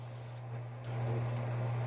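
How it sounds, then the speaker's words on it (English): Butter-flavored cooking spray hisses onto a pan in a steady, close burst lasting under two seconds, with a low hum running beneath it. "I thought about using the avocado coconut spray on this instead of the butter spray"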